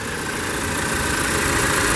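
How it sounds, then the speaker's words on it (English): A 2019 Audi Q5's 2.0-litre TFSI turbo four-cylinder idles steadily with the hood open, a close, even hum and whir with no change in pitch. "Under the hood on this Q5, this one is equipped with the typical Audi 2-liter TFSI turbo 4-cylinder."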